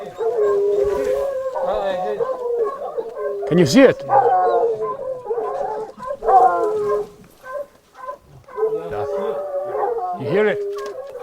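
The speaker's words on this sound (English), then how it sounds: "The dogs now have made contact with the leopard, but it is far from certain that they can drive it out of the crevice." A pack of hunting dogs howls and yips at a leopard hidden in a rock crevice on safari, the wavering howls loud and overlapping, with someone speaking quietly between them.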